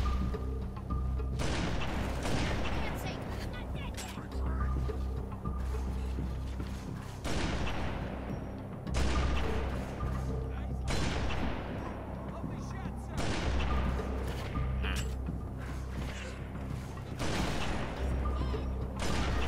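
A Halo 3 battle against Brutes rages with repeated gunfire and heavy explosive booms, loud bursts recurring every few seconds over constant combat noise, with game voices speaking now and then.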